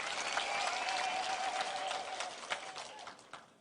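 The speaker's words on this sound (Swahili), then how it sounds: "Tumpigie makofi." A crowd at a Kenyan political gathering breaks into applause, a broad wash of clapping that holds steady and loud, then thins and fades toward the end while a faint voice carries through.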